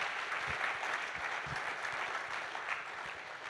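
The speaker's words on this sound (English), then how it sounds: "If you guys can give him a round of applause," Faint, distant audience applause fills a hall at a startup accelerator demo day, a steady wash of many hands clapping for a few seconds.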